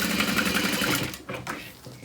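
Sewing machine stitching handbag strap connectors, a fast, steady mechanical whir with rapid needle rhythm for over a second, then stopping abruptly, followed by a couple of short clicks and quiet handling sounds.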